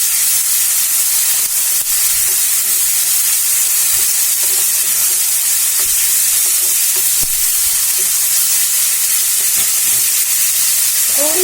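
Chopped tomatoes frying in a hot pan for a vegetarian thali, giving a loud, steady sizzle and hiss that runs unbroken throughout, with faint scrapes of stirring mixed in.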